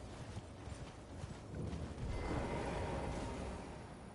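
Horse hooves clip-clop steadily in Elden Ring, a continuous rhythmic trotting that grows slightly louder and busier partway through, heard alone without talk.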